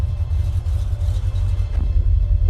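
AMC Javelin 1970s American muscle car with mufflers and exhaust dumping just ahead of the rear axle, its engine rumbling at a steady idle, deep and close throughout with no talk.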